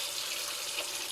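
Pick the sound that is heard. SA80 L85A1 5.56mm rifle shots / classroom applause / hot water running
hot water running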